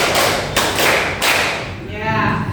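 Classroom clapping rhythm from a teacher training lesson, three broadband claps spaced about half a second apart, then fading into noisy room tone with faint murmur.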